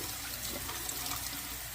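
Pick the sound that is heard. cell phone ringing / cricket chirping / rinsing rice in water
rinsing rice in water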